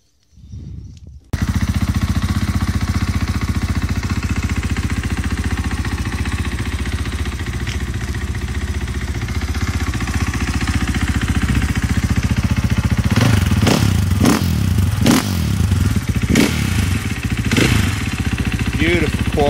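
A brand-new 2018 KTM 500 EXC dirt bike, fresh with zero kilometres, starts up and idles steadily in a workshop, a loud continuous engine drone with sharper rev blips near the end.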